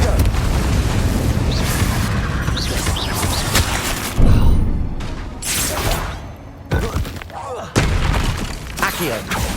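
Booming blasts from the Confringo blasting spell in Hogwarts Legacy, mixed with a loud, continuous roar of combat effects and several heavy thuds. Spell incantations are shouted over the noise.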